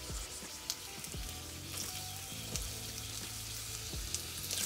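Wild mushrooms fry in hot oil in a pan, a soft close sizzle with scattered pops and a few scraping stirs, no talking.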